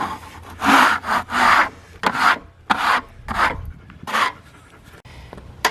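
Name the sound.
scraping on a black walnut log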